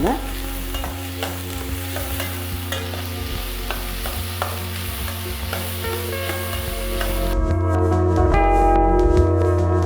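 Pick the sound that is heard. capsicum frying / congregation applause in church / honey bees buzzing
capsicum frying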